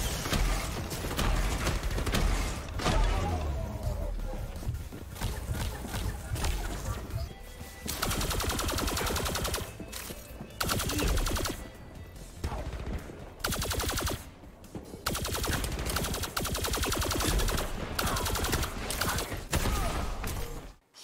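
Virtual gunfire in the VR game Grapple Tournament sounds as dense, continuous bursts of shots and mechanical clatter mixed with game effects, loud and unbroken across the whole stretch, with a voice briefly underneath.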